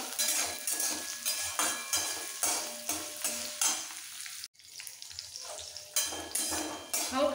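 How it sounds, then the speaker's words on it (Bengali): Ginger, garlic and spices for a peanut chutney fry in a pan, a steady sizzle broken by rhythmic scraping strokes of a spatula and occasional clinks, with a brief pause midway. "যাতে আদা রসুনে কোনো কাঁচা গন্ধ না থাকে একটু ভেজে নিতে হবে।"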